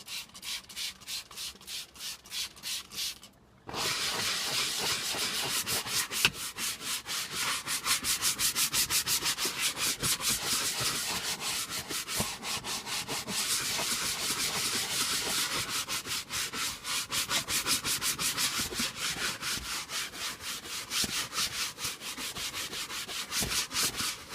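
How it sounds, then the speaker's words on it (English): A brush scrubs vehicle leather upholstery with an all-purpose cleaner in fast, rhythmic back-and-forth strokes, close and continuous after a brief opening pause, with no voices. "You don't want to rub too hard into the leather because you could ruin the hide."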